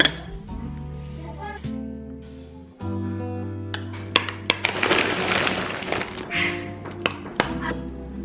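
A new jar of peanut butter is handled and opened, with a series of close glassy clinks, taps and knocks, some sharp and isolated, over steady background music.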